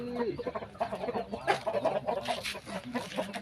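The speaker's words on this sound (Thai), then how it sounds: "ไก่ชน" Fighting-breed chickens cluck and squawk close by in short, choppy calls at feeding time on a farm, with a faint murmur of people in the background.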